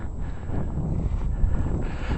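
Gusting wind during a snowstorm, with about 20-25 mph gusts and deep snow on the ground, makes a low, rough, buffeting roar that swells and dips against the microphone.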